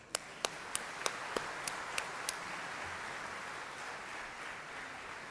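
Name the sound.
students applauding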